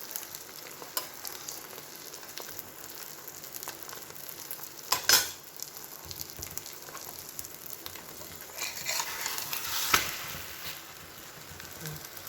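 Roti coated with beaten egg fries in a pan for an egg roll, giving a steady close sizzle with soft scraping and pressing noises and a couple of brief louder clatters.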